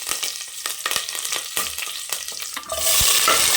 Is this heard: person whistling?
no